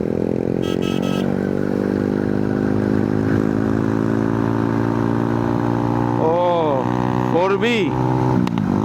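A motorcycle fitted with an aftermarket exhaust rides along a road from Bandarban toward Teknaf, its engine a steady, loud droning hum that rises in pitch, with brief voices near the end.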